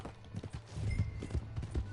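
Horse hooves clip-clopping as a horse is ridden off in the Red Dead Redemption 2 video game, a quick run of soft, muffled hoofbeats building in rhythm, fairly faint.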